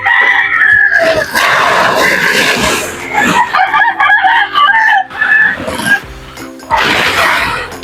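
Chicks and chickens cluck and squawk loudly at feeding time, a close, busy jumble of overlapping calls with short pauses between bursts.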